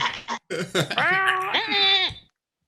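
A single loud, wavering bleat close by, rising and trembling before it cuts off, preceded by a few short bursts of sound. It could be a person imitating a goat.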